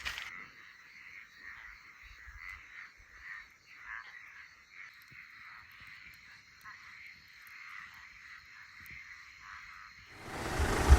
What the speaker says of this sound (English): So the sun's just set, the frogs are noisy.